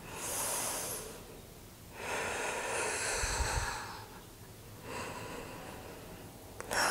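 Three deep, slow breaths during a full-body stretching exercise, each a close, airy inhale or exhale of about a second and a half, separated by quiet pauses.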